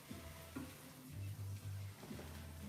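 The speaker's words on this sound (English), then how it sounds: "you can hear like that skin is crisping up too" Salmon skin crisps in a hot pan with a steady, close sizzle and low crackling frying noise, with no talking.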